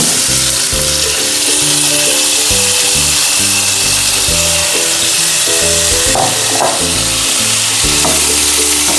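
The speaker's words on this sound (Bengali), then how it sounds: "আমি শশাগুলো ঢেলে দিচ্ছি" Cucumber pieces tipped into a hot pan for a Bengali vegetarian curry, a loud continuous sizzle with rattling and clattering bursts as the pieces settle and are moved around.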